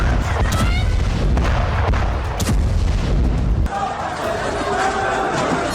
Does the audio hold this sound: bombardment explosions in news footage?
yes